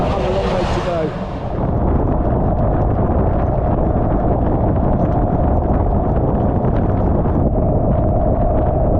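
Steady, loud wind roar buffets the microphone throughout, a constant broadband rush with a low hum underneath, riding a BMW R1200GSA motorcycle at speed in wet, windy weather.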